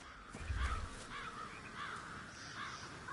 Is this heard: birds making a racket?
yes